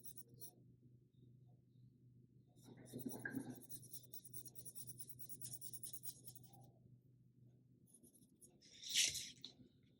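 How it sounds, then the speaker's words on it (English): Pencil drawing on paper for a kindergarten gorilla portrait: soft, close scratchy strokes in a couple of short bursts, with a sharper scrape near the end, quiet under a faint background hum. "now we're just drawing a vertical line going down and a curved line"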